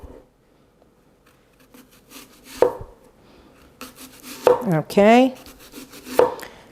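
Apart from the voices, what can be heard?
knife cutting an apple into slices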